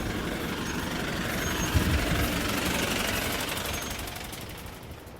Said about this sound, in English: And 10 minutes later, here is the sound of a trash truck.